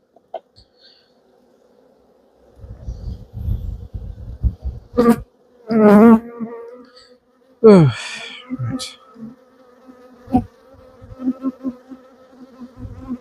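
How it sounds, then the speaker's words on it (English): Honey bees buzz around a beekeeper's head at an open hive, a low droning hum with sharper loud passes near the microphone coming and going in bursts, and a brief spoken word. "They're flying around my head a little bit, but it's not like batting me."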